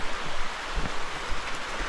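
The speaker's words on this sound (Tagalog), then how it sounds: "malakas yung ulan ah" Heavy rain pouring down outdoors, a loud, dense and continuous wash of noise with scattered heavier drops and no voices.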